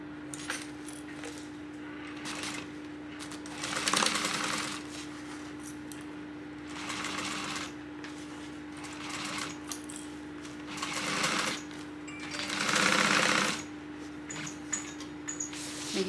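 A sewing machine stitches a 3/8 inch seam on a tote bag in several bursts of rapid mechanical whirring separated by short quiet pauses, close and steady, with no talk.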